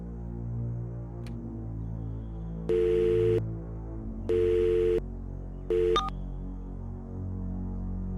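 A phone ring tone sounds three times in steady bursts, the last one cut short, over a low background hum with no one answering.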